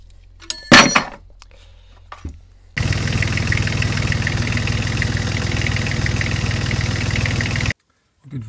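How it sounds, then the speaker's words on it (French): A Yanmar 3YM30 marine diesel fires up on a test start after a belt replacement, idling steadily with a close, even chugging for about five seconds before cutting off abruptly. A few brief knocks come before it starts. "on va faire un démarrage d'essai pour vérifier que tout fonctionne bien"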